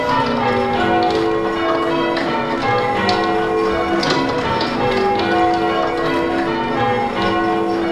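Church bells rung in changing order as in English change ringing, a dense continuous peal of overlapping strikes with a steady rhythm, loud and sustained without any talk.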